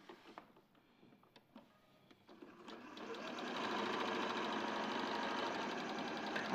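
A sewing machine stitches two pieces of fabric with right sides together. Some light ticking handling comes first, then the motor rises into a steady, fairly loud hum for the last few seconds.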